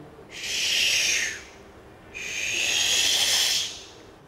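Two long breathy hissing whooshes, each over a second, made by a voice imitating a missile in flight, close and fairly loud with a short pause between.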